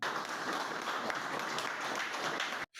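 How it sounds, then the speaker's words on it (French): Sustained applause fills a hall as a provincial supervisor hands the governor of Moyen-Ogooué an updated census report, a dense steady wash of many clapping hands that cuts off abruptly near the end. "des applaudissements nourris de la salle"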